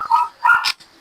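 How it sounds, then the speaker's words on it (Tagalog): A neighbouring dog barks in a short run of sharp, fairly close yips and barks, with a quieter bark trailing off at the end. "maingay yung aso dyan sa kabila"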